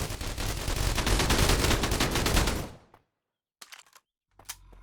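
Video game gunfire: a dense, loud barrage of rapid shots for a few seconds cuts off abruptly into silence, followed by two short, quieter bursts.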